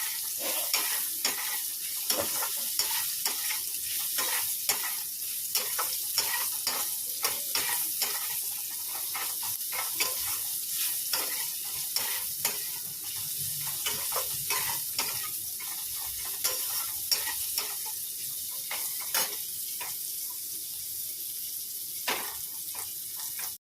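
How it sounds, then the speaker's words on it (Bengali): Bitter gourd slices frying in oil in a pan at home, a steady sizzle running throughout with frequent scraping and stirring clicks of a spatula, close and moderately loud with no talk. "উচ্ছেটা একটু লাল লাল করে ভাজবো"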